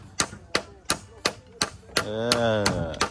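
Wooden mallet blows pounding bamboo stakes into the Xe river for a village-built bamboo bridge, about nine sharp, evenly spaced knocks, close and loud, with a voice rising under the last few strikes.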